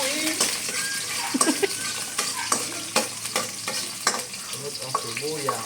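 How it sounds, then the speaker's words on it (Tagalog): Garlic sizzles and fries in a pan while a utensil stirs it, scraping and clinking against the metal over a constant hiss. The cooking is close and moderately loud. "Ang bawang, haluin."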